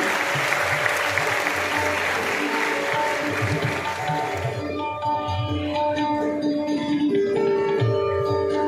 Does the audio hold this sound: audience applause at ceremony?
yes